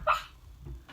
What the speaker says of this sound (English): Dog is doing a bit of dreaming